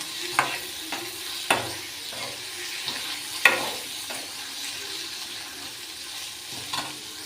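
Capsicum and tomato sabzi cooking in a pan, a steady soft sizzle with occasional sharp scrapes and clacks of a stirring spoon against the metal, close and fairly quiet.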